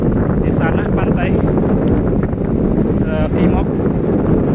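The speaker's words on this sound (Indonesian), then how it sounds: "Angin cukup kencang, harus melepas topi dulu jangan sampai terbawa angin." Strong wind buffets the microphone on a seaside clifftop overlooking the Indian Ocean, a constant loud rush with faint voices now and then underneath.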